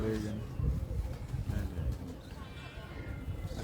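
Pigeons coo softly amid outdoor background noise, with faint voices nearby; the birds are Pak-Arab breed pigeons.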